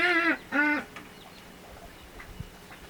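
A duck on an off-grid homestead quacks twice in quick succession, two short loud nasal calls near the start, followed by quiet background with a faint distant knock.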